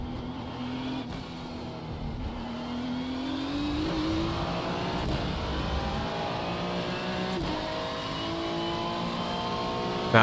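A GT3 race car in iRacing at Spa holds a steady, loud engine drone as it climbs through the revs, with brief gear-change breaks and a rising whine across the run.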